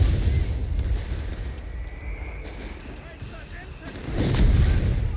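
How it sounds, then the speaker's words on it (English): Delayed-fuse mortar barrage in the World War II strategy game Company of Heroes 3, a dense rumbling wash of distant blasts and gunfire that swells louder near the end, under a commentator's talk. "We got delayed fuse barrage here from MC-15's mortar, meanwhile."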